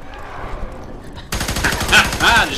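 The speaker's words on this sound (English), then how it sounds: "I just shot that guy's head right off" Rapid automatic gunfire bursts out in F.E.A.R. 3 online co-op play after a quiet stretch, dense and loud, with a voice briefly rising over the shooting near the end.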